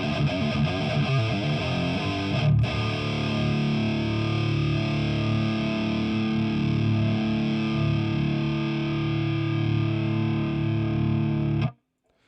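A heavily distorted metal guitar tone from an AmpliTube 4 preset, played dry without EQ, rings out as thick sustained chords for about twelve seconds, loud and dense, then cuts off abruptly into silence. No one talks over it.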